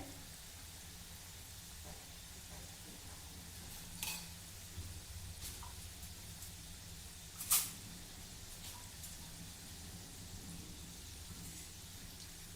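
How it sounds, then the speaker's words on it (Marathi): Karanji pastries with a semolina filling deep-fry in oil over a low flame, giving a faint, steady, hissing sizzle with a couple of brief soft crackles partway through. "मंद गॅसवर आपल्याला ह्या करंजा व्यवस्थित तळायच्या आहे"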